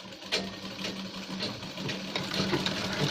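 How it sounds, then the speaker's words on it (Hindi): Sewing machine running steadily while stitching the seam of a men's shirt, a close, continuous mechanical whir with a soft repeating rattle, no talking. "और इस तरीके से सिलाई मार देंगे"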